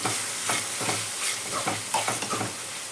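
Chopped tomatoes frying and sizzling in a pan, with repeated scraping stirs of a spoon at an irregular rhythm, close and clear without speech.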